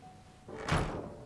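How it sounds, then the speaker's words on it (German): A door closing in the survival video game Sunkenland gives a single soft, muffled thunk that swells briefly and fades, fairly quiet and alone. "Tür zu."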